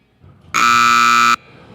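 A loud electronic buzzer sounds at a youth team roping competition, one steady harmonic blast lasting under a second, with faint arena noise before and after.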